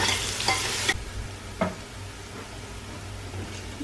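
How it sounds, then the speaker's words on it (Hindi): Ginger and garlic fry with browned onions in a pan, giving a soft, continuous sizzle broken by a few sharp scraping stirs of a spoon. "2-3 मिनट इसको फ्राई करेंगे"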